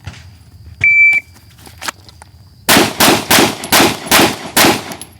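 A pistol shooting drill, low round drills: a sharp timer beep, then after a pause about six rapid, loud, close gunshots in quick succession.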